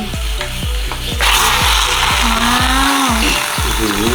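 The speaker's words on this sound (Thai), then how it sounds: "เดี๋ยวเราเท ไข่ตุ๋นของเราลงไปได้เลย" Steamed egg mixture is poured into a sizzling hot pot. A loud, steady sizzle swells partway through over a repeating low rhythmic thump. No one speaks.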